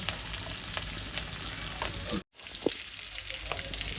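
Onions sauté and sizzle in a pan, with a steady frying hiss and occasional stirring scrapes. The sound is moderately close and has a brief cut near the middle, with no voices.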